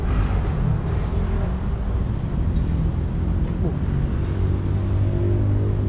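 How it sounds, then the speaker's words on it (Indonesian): Distant car engine heard from outside, a steady low rumble under constant broadband background noise, continuous with no distinct events. "ternyata asik juga ya dengar suara mobil sendiri dari luar"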